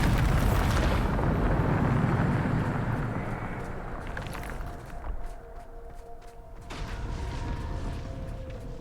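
The Bombarda blasting spell in Hogwarts Legacy bursts with a loud, broad rumbling explosion that fades over several seconds into debris clatter and lingering rumble, close and alone.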